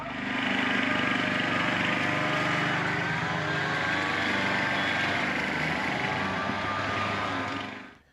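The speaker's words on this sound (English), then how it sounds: "I think somebody's mowing a yard" A lawn mower runs close by in late December, its steady motor drone holding level for about eight seconds before cutting off at the end.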